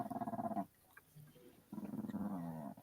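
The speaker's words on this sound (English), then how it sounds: "I hear growling" An animal growls low and close in two rumbling stretches with a brief quieter gap between them, and nobody speaks.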